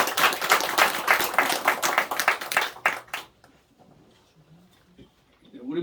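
A church congregation at a Sunday morning service claps for a recovered student, a dense burst of hand-clapping for about three seconds that stops abruptly, leaving a quiet room with faint movement.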